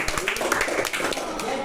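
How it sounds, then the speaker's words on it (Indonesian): A classroom of students claps for a student group during a lesson on congregational prayer, a short burst of scattered, close hand claps with a voice speaking over them. "tepuk tangan untuk kelompok C."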